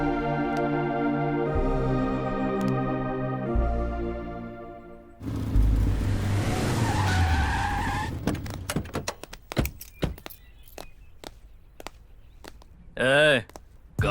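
In a dubbed South Indian action film, a car skids to a halt with a loud rush of rough tire noise after a stretch of music, followed by scattered thuds and knocks, one of which may be a car door.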